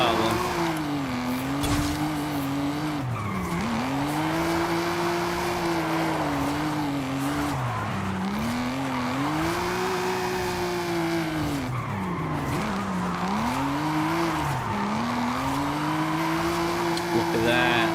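Sustained tire squeal from an American muscle car drifting in Forza Horizon 5, a loud continuous screech with a wavering pitch that dips and swells through repeated slides over a steady engine roar.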